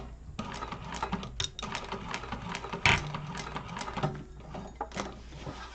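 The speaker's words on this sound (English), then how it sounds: "I'm just going to go over my stitches with a back stitch just to make sure they don't go anywhere" A sewing machine back-stitches over existing stitches on a wallet, giving a rapid mechanical chatter in short bursts with brief pauses and a clack near the middle, close and fairly quiet.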